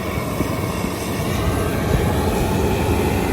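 A CLAAS Lexion 8800 Terra combine with a MAN engine idles at 1800 rpm, a loud, even diesel drone with a constant rumble heard up close throughout.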